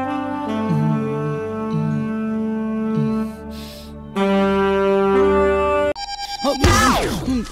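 Phone ringtone playing as a loud tonal melody of repeated notes, breaking off and restarting, with a brief bright swept electronic flourish at the end, no talking.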